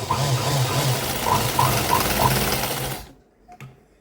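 A sewing machine hums steadily as it stitches a double seam along folded cloth for a decorative tassel, running continuously for about three seconds before stopping, followed by a few faint clicks.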